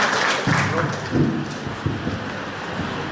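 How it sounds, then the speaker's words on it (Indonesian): Scattered audience applause at an Easter celebration gathering of a family association in Jakarta, a steady wash of clapping with faint voices underneath, moderately loud and continuous for a few seconds. "Boleh berikan tepuk tangan sekali lagi."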